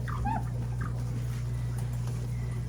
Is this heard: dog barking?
yes